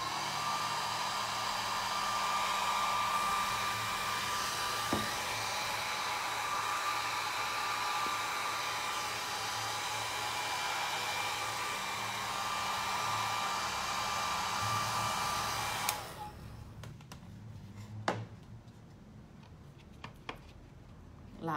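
Hair dryer blowing steadily on painted MDF, a constant whirring hum, then it switches off and faint clicks and handling taps follow.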